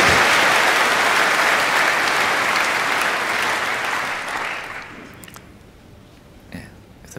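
Loud, dense applause from a snooker audience at the Masters, one clapper standing out near, fading over about five seconds to quiet with a few scattered claps at the end.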